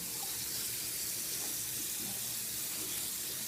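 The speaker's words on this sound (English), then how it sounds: "let's go ahead and wet my face up here." Running water from a sink tap as a man wets his face before shaving, a steady broadband hiss and splash that continues alone without pause, moderately close.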